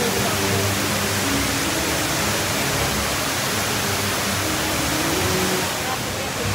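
Steady roar of a waterfall in Singapore fills the scene, a dense, continuous rush of falling water heard up close and loud throughout, with faint voices underneath.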